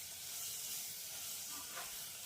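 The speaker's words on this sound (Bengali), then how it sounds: "আদা রসুন বাটা যেটা দেওয়া হলো সেটাকেও পেঁয়াজের সাথে একটুখানি নাড়াচাড়া করে ভেজে নিতে হবে।" Ginger-garlic paste fries with onions in a pressure cooker pot for a rajma curry, producing a faint, even, hissing sizzle with no voices.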